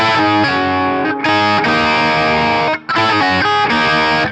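A heavily distorted electric guitar plays a short repeating riff from a song's chorus, notes bending and pulling off between picks, with a brief gap before the phrase returns.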